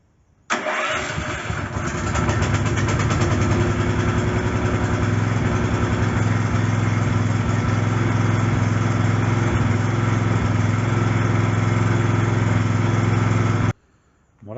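A petrol air compressor engine, freshly fitted with a new spark plug, cranks on battery and catches, then runs loud and steady at close range for about thirteen seconds before cutting off abruptly.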